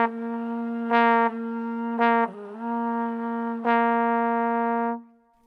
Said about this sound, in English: you can hear what happens when I'm going between a full sound and then a ghosted sound